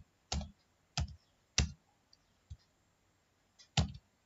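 Sparse, isolated keystrokes on a computer keyboard while HTML is typed, each a crisp close click separated by short pauses, in an otherwise quiet room.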